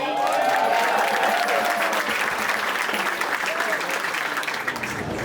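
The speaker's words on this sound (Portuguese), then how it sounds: "Levanta as mãos e aplauda." A church congregation applauds steadily with raised hands, a dense wash of clapping that stays loud for several seconds and tapers slightly toward the end.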